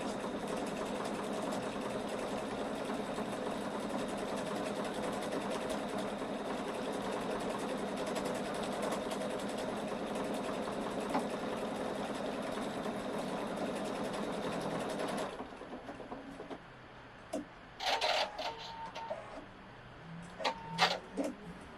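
A Pfaff 710/720 sewing machine stitches a triple-stitched leaf design in a long, even mechanical whir lasting about fifteen seconds, then stops, leaving a few faint clicks and handling sounds.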